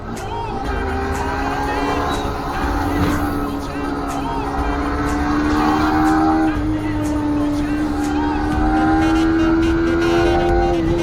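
A Yamaha R15 V4 motorcycle accelerates through traffic, its engine loud and close with a rising, whining pitch that climbs steadily over about eleven seconds.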